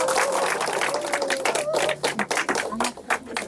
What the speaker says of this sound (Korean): 우리 박수 맞이해 주세요.